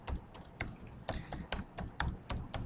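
Quick typing on a computer keyboard while entering a model search in a kitchen design program: a run of light, close key taps in an uneven rhythm, fairly quiet and with no talking.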